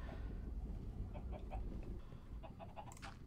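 Chickens in the game Minecraft cluck in a series of short, moderately loud clucks over a dense background rumble, with no one speaking.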